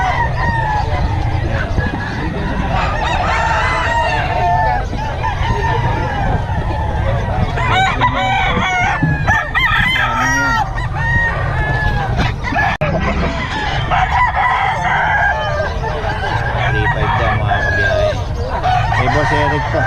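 Several Boston gamefowl roosters crow loudly and repeatedly nearby, their calls overlapping with clucks and other fowl noises in a busy yard, while someone talks now and then underneath.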